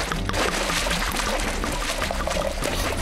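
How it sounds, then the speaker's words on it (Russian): Water being poured, a steady close splashing stream running for three seconds at a fairly even loudness, with no talking. "Добавим еще немного воды!"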